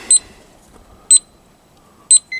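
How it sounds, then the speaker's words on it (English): A grill thermometer temperature alarm on an SNS kettle grill cooking a standing rib roast beeps loudly in three evenly spaced double chirps about a second apart, close and clear with no talk. "If it drops below 215, the alarm will go off."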